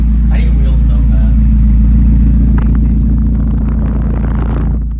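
A Mazda Miata idles loud and close through a new ISR catback exhaust, a steady deep rumble fading out at the end, with voices over it.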